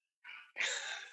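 A single sneeze, close and fairly quiet: a short breathy intake followed by a sharp, noisy burst that trails off.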